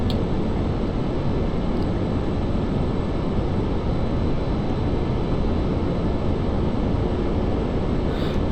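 MiG-21bis jet engine running with afterburner in DCS: a loud, unbroken broadband roar, close and steady throughout, with no speech.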